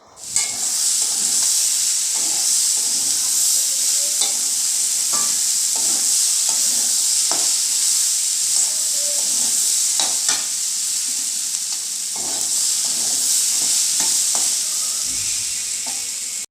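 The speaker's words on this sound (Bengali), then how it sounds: "আমি নিজেও ঘুগনিটা রান্না করতে শুরু করে দিলাম" Ghugni with fenugreek leaves sizzling hard in a pan while a spoon stirs it, a loud steady hiss broken by repeated scraping strokes, close up and with no talking.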